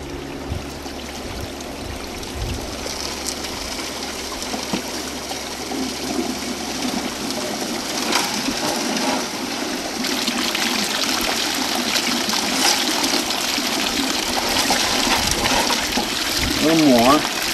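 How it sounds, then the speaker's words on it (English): Water runs and trickles through a Keene's 160 dry and wet washer, a steady close splashing flow that lasts throughout, with a few faint bits of background voice. "I'm just going to get a little water to wash it through here."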